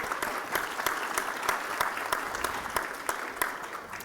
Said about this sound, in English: So I just want to take a quick moment of applause to you all and to the Foundation for that.